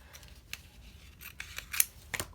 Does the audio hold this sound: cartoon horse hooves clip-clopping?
no